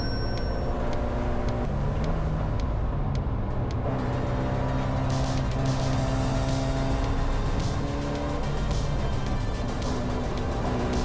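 Race cars, including a 40-year-old Toyota, overtake on track during a 25-hour endurance race, with a loud, constant engine drone and shifting pitch as the cars jostle past, heard alone with no voices.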